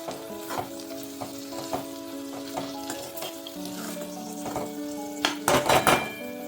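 Broad bean vegetable curry, Andhra style, sizzles steadily in a pan while a spoon stirs it, with repeated scraping clinks against the metal that grow busier and louder toward the end.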